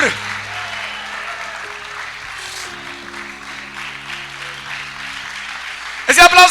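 A church congregation applauds in a sustained, even roar of clapping over soft held keyboard notes, and a voice speaks loudly at the end.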